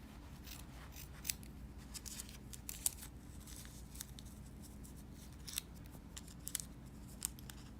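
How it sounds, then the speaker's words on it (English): Scissors cut through felt for goldwork embroidery, quiet crisp snips recurring at irregular intervals over a faint background hiss. "we're going to cut a second one smaller out of the same felt"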